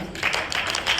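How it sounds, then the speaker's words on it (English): A brief, soft wash of audience applause at a Saraswati Puja performance, many hands clapping together in a diffuse, even patter. "A big round of applause for Sanvi."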